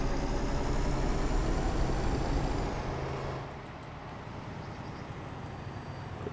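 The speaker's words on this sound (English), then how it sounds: "I hear the engine from the outside." Truck engine in a trucking video game crossing from France toward Luxembourg, heard from outside the cab as a steady low rumble that drops a little in level after a few seconds and then drones on evenly.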